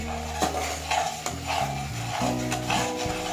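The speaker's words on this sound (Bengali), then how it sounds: "এবার মশলা 2 থেকে 3 মিনিট ভালোভাবে কষিয়ে নেব" A spice paste is sautéed in a pan with a low background sizzle, punctuated by several sharp clanks and scrapes of a metal spoon stirring against the cookware.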